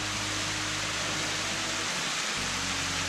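Ubagataki, a two-tiered waterfall with a small plunge pool on Japan's Kii Peninsula, gives a steady, even rushing hiss that never varies, with a faint low hum beneath and no voices.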